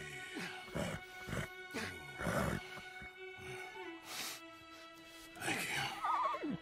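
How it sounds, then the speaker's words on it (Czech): A horse in the video game Red Dead Redemption 2 whinnies and snorts in several loud, drawn-out calls close by, separated by brief lulls over a steady tonal music drone. "Jo, jde o koně."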